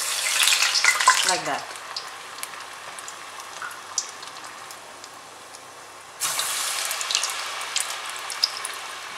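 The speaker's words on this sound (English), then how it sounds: "So I'm going to fry it till it turns golden brown" Masala rava vada, a semolina fritter, fries in hot oil with a steady crackling sizzle that drops quieter midway and then surges louder again; a voice speaks briefly at the start.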